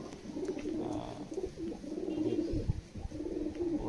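Red Eyes pigeons of the Pilanka and Kalanka breeds coo in a loft. Soft, repeated throaty coos come from close by over steady low background noise.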